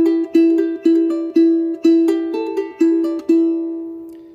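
Charango plays a short plucked melodic phrase from Virgenes del Sol, about eight bright, ringing notes in an even rhythm, close and clear with no voices.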